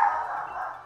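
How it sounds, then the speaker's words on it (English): A pet dog named Mello gives a single short, close bark or yelp indoors, sustained for a moment and then trailing off. "my dog is kind of annoying me already"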